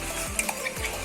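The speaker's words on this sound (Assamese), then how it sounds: "এয়া মাংস পিঁয়াজ চিয়াজ দি ভাজিছে" Meat frying with onions in a home kitchen during a Rongali Bihu evening: a steady close sizzle with soft stirring scrapes and a few light utensil clinks, no voices.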